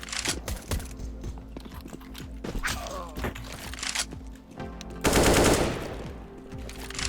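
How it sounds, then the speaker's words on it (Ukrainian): Gunfire in Counter-Strike: Global Offensive, rapid automatic bursts and single shots crackling in quick clusters, with a louder sustained burst near the end, heard close with no talk. "Мені якось приємніше стріляти, якщо чесно"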